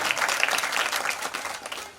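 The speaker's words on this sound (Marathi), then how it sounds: "या टाळ्यांचा गडगडाट जाईल असा आवाज तुमच्या टाळ्यातून आला पाहिजे" An audience applauds at a ceremony honouring journalists, bursts of clapping rising and falling, loud and close, fading slightly toward the end.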